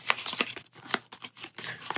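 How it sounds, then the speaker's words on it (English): Cards are shuffled into a deck in the Pathfinder Adventure Card Game video game, a brief burst of rapid papery riffling flicks heard alone and fairly close. "and shuffle that into our deck."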